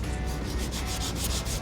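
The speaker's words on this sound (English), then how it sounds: "you really want to start sanding it or shaping it before it hardens all the way up" Body filler on a square-body Chevrolet K-10 truck is sanded by hand in loud, close, rhythmic back-and-forth rasping strokes, with no voices present.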